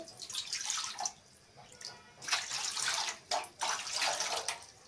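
Water is poured from a cup into a pan for rava kesari in bursts of close, splashing gush separated by short pauses, no voices.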